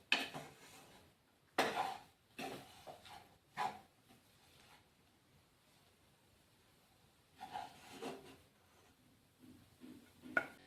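Cooked radish leaf vegetable is scraped from a pan into a serving dish in sparse, quiet bursts of spoon-on-metal clatter, a few taps and scrapes close by separated by stretches of near silence.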